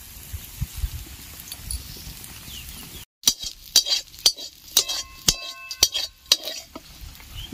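Chicken pieces coated in ginger-garlic paste fry in a pan while a utensil knocks and clinks against it in an irregular series of sharp taps, after a brief silent gap; the sizzle stays low beneath the strikes.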